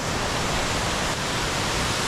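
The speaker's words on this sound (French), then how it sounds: "Ma grosse cascade." A large waterfall near Chamonix roars as a dense, loud, unbroken rush of falling water, heard up close with no gaps and no voices.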